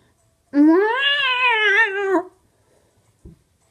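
A person imitates a cat with one drawn-out, wavering meow lasting about two seconds, loud and close, followed by a brief soft knock.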